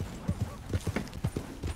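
Horse hooves clip-clop in a steady walking rhythm inside a video game, fairly faint and close, with a quick regular sequence of soft thuds.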